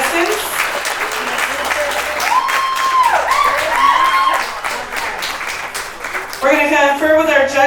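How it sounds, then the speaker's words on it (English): A crowd at a 2023 Rockabilly River Queen pin-up pageant bursts into sustained loud applause and cheering for the contestants, with whistles and a voice talking over the clapping toward the end. "Everybody give a huge round of applause to our 2023 Rockabilly River Queen contestants."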